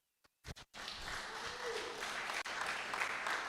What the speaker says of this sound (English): Give our panel applause.